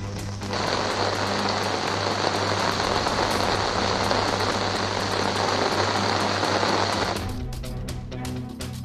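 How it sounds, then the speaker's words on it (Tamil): Steady heavy rain pours down in Sirkazhi, a dense continuous hiss that fills most of the stretch and then drops off sharply near the end. "சீர்காழி மற்றும் சுற்று வட்டாரங்களில் மீண்டும் மழை."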